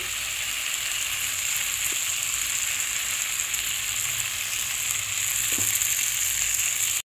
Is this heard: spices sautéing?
yes